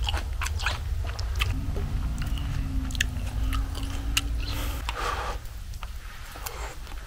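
Crunchy chewing and biting of a Cheongyang green chili pepper, close and fairly quiet, with irregular crisp crunches repeating over several seconds against low background noise.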